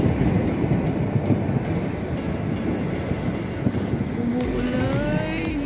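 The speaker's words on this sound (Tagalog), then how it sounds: "Umuulan!" First rain of the year falling in Kuwait: a steady, dense hiss of rainfall that fills the whole stretch evenly, with a faint rising whine near the end.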